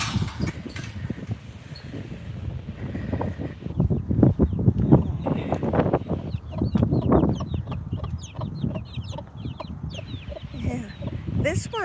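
Several farm chickens cluck and murmur in a pen on a rural South Dakota farm, with irregular clucks and squawks close by, a person talking intermittently over them and a faint mechanical hum underneath.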